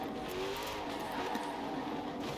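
A Koenigsegg Jesko hypercar with 1600 horsepower in Forza Horizon 4 gives a steady, loud engine drone as it revs and runs, with faint tyre noise and no talk.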